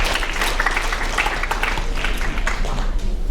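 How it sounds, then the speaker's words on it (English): Audience applause at a school writers' week reading, a steady dense wash of many hands clapping from a seated crowd, sustained throughout at moderate loudness. "give yourself a round of applause if you stood up both times"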